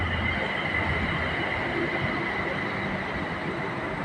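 Steady rumble of a Bangkok BTS elevated electric train running along the tracks, a continuous broadband roar with no pauses and no voices.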